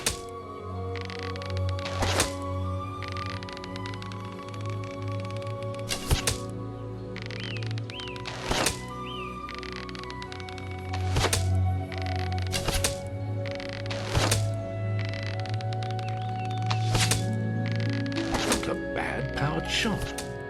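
Arrows strike a target at an archery range in Fable Anniversary, a run of sharp thwacks at fairly regular intervals over steady game ambience, with a voice talking in between.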